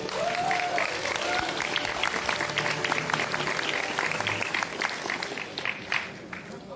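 An audience at a political party launch ceremony breaks into sustained, moderately loud applause, with crowd noise and a brief tonal sound near the start, tapering off toward the end.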